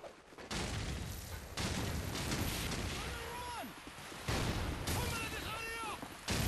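Gunfire and a grenade blast in Call of Duty 4, from a 2008 CEVO finals match, with loud broadband bursts filling the clip and players talking over the shooting.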